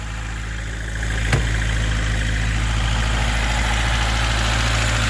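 A car engine idles steadily at close range, a deep low rumble with constant vibration; one brief click-like transient breaks in early, then the drone continues alone with no talk.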